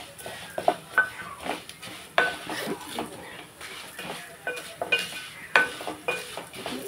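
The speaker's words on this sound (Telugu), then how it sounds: "చూడండి బాగా వేగుతుంది" Coriander seeds, spices and curry leaves roasting in a pan for curry leaf powder, with a spoon stirring and scraping in steady strokes over a soft, continuous sizzle, close by.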